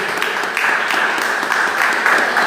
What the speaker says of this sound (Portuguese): Você pode, glória a Deus, aplaudir ao Senhor.